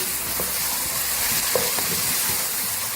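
Achari mash dal fries over high heat in a pan, giving a steady sizzling hiss with occasional stirring scrapes close by and no voices.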